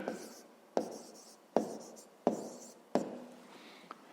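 Hand writing on paper while working a fifth-grade math exercise: four or five distinct scratchy pen strokes come at roughly regular intervals, each with a sharp onset that fades away, heard close and quiet.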